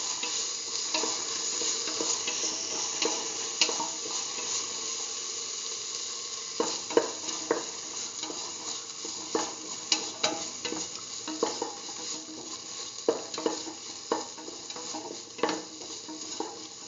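A split mung bean and eggplant stew mixture with tomato pieces being stirred in a hot pan, constant sizzling frying hiss with irregular spoon scrapes and knocks against the pan throughout, close and alone.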